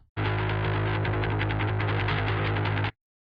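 An isolated bass guitar track from a black metal song being mixed, a thick, steady low drone with a buzzing edge played continuously for about three seconds, then stopping abruptly, alone with no voices.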